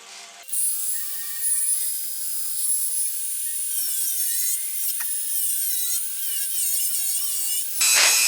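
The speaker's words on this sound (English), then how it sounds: "you're not going to hear me over the damn Dremel" A Dremel rotary tool shapes bocote wood handles with a high, steady whine that wavers in pitch as it bites into the wood. It runs close and loud for about seven seconds before cutting off.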